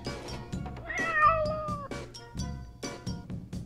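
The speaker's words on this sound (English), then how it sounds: "This is a cat." A cat meows repeatedly and clearly, several drawn-out wailing calls in an uneven rhythm, close and fairly loud with no talking.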